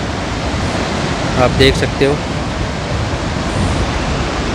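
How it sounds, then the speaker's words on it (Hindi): Steady broadband rush of the Yamunotri (Yamuna) river flowing below a mountain trekking path in the Himalayas in November, a continuous distant water roar, with someone briefly talking over it. "और ये नीचे यमुनोत्री नदी"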